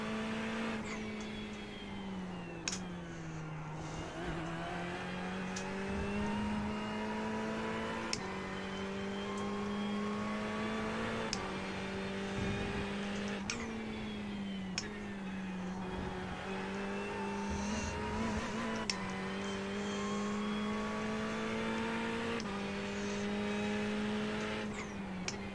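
Audi race cars in a sim racing league game hold a steady, droning engine note throughout, with small pitch dips and rises as they brake and accelerate through corners, loud and continuous with no talk.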